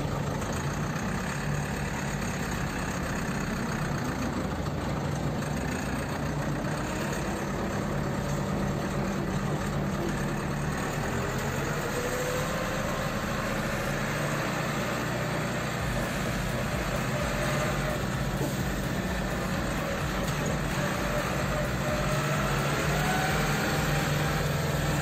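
A YuMZ-6 tractor fitted with a MAN engine drives along with a steady, loud engine drone heard from inside the uninsulated cab, continuous throughout with a slight rise in pitch as it picks up speed.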